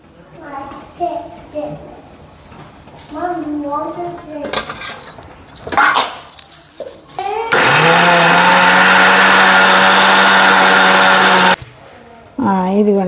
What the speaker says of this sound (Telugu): వేపినవన్నీ మిక్సీ పట్టుకోవాలి.